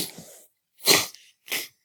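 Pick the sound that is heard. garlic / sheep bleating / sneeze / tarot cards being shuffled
sneeze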